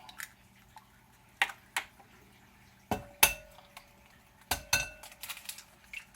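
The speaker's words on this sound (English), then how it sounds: "So you crack our eggs." Eggs are cracked against a bowl for an omelette in a kitchen, one after another. Sharp, close knocks and clinks come in separate bursts, with soft wet squishes between them in otherwise quiet surroundings.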